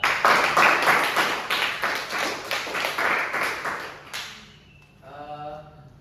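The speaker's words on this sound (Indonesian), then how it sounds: "kasih tepuk tangan buat Okan" A classroom group claps in a quick, loud burst of rhythmic hand claps for a student's correct quiz answer, fading out after about four seconds into a quieter room tone with a brief voice.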